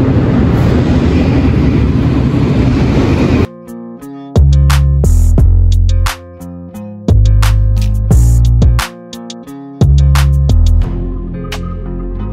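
A train pulls into a station during heavy snowfall, with a steady rumble giving way to loud low clanking, thumps and metallic squeals as the cars roll in close by.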